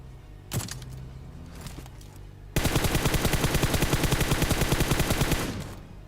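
An M4 rifle in the mobile shooter BGMI fires a couple of isolated shots, then a fast, loud automatic burst of rapid even cracks lasting about three seconds before it cuts off.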